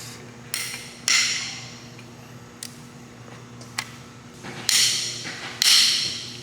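A socket breaking loose the cylinder head studs on a 2JZ engine gives several sharp, loud cracks and knocks at irregular intervals. A steady low hum runs underneath, and no one speaks.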